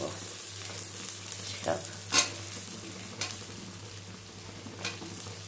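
Vegetables stirred into spiced masala in a pan for a light Bengali fish curry, giving a faint steady sizzle with occasional soft scraping stirs, no talk.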